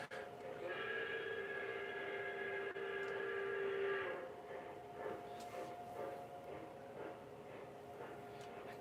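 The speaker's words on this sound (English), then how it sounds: "Can you hear the Q2 coming?" An MTH Q2 model train draws near, its steady tonal hum and whistle-like horn holding loud for about four seconds before fading into quieter rolling clatter, with faint voices in the background.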